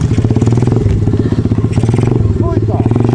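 A 120 motorcycle engine idles and then pulls away in first gear, a steady low rumble with a rising note, close by and loud, with a person talking over it.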